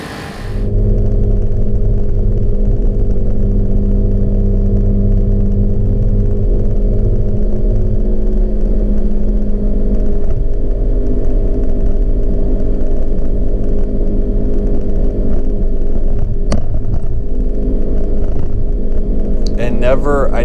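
125cc scooter engine straining under a steady drone while towing a truck, a continuous low rumble lasting throughout with little change in pitch.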